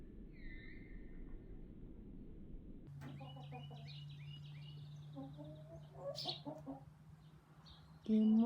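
Backyard chickens cluck in short, scattered bursts near the listener, over a low steady hum, with a louder burst of noise at the very end.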